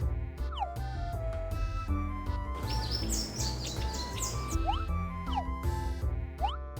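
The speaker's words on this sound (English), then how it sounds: "Even stuff like the bird sound effect" Video game bird sound effect from Okage: Shadow King: short, repeated sweeping chirps and tweets over background game music, with a busier chirping flurry in the middle.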